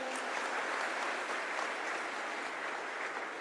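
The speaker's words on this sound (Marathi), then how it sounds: "त्यांच्यासाठी एकदा जोरदार टाळ्या होत्या." Steady, dense applause from a large crowd at a live Marathi comedy speech event, sustained without pause for a few seconds and heard alone with no talking over it.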